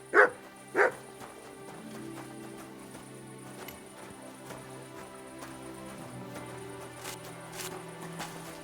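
A dog in Kingdom Come Deliverance 2 lets out two sharp, loud barks close by. A low sustained hum follows, with faint rain-like patter and scattered soft ticks.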